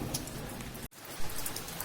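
Heavy rain pours down in a dense, continuous hiss, broken by one brief dropout and a few louder patters, with no voices.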